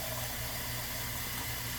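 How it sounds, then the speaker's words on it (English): Water pours steadily from a tap into a cooking pot in a kitchen, making a continuous close rushing hiss. It holds even and unbroken throughout, with no talking. "I'm going to add some water to this, and I am going to bring it to a boil"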